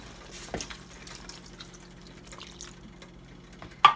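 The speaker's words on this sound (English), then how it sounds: "I'm gonna add some more water because it'll cook down." Water is poured into a simmering chicken tikka masala sauce, making a faint, soft trickle and a few drips, with a sharper splash at the very end.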